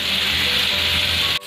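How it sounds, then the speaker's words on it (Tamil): Vanjiram fish frying in sesame oil, a loud steady hiss and sizzle close up that cuts off abruptly at the end. "ஒரு பக்கம் நல்லா ஃப்ரை ஆனதுக்கப்புறம் அடுத்த பக்கம் திருப்பி வைக்கலாம்."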